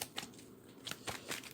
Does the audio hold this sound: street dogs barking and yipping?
no